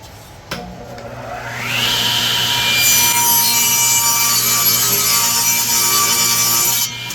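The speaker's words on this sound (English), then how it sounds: "let's go ahead and cut a strip" A power saw spins up and then cuts a strip of wood for an antique table repair, giving a loud, steady rasping whine for several seconds before stopping.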